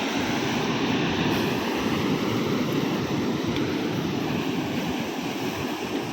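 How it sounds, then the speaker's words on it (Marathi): Ocean surf washing onto a Konkan shore at night, a continuous loud roar of breaking water with wind rumble and no pauses, heard during a crab hunt. "पाणी बघा, लाटांचा आवाज बघा."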